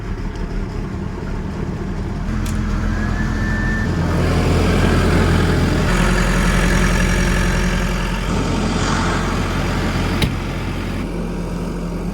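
A Case 580 backhoe's engine idles steadily while warming up in wet, heavy snow, a constant low mechanical rumble that stays even and unbroken throughout with no voices.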